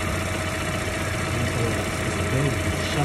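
A Vauxhall car engine idles steadily with the bonnet open during temperature sensor housing work, a constant even rumble and hum with no change in pitch, while a person talks intermittently.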